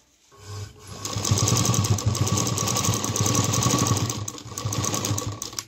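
A sewing machine stitches a fabric strip onto a homemade tiffin lunch bag, a rapid, even mechanical chatter that starts up after a brief quiet, runs steadily and loudly, then eases off near the end.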